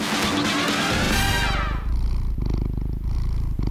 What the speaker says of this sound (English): Is that my cat, Fluffy?